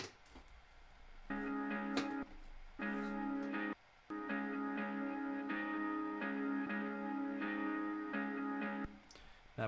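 A sustained, distorted guitar loop plays in repeated chord blocks with brief gaps, processed with chorus-like effects and a faint echo.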